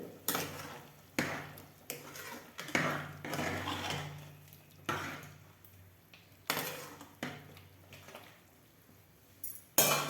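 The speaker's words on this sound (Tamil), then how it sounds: "இப்போ எப்படி இருக்குன்னு திறந்து பார்த்துக்கலாம் நல்லா கொதிச்சு வந்துட்டுருக்குது" Metal clanks and clinks of a pot lid and utensils being lifted and knocked on a cooking pot of chicken curry boiling on the stove, a series of sharp separate knocks spread irregularly with quiet gaps between them.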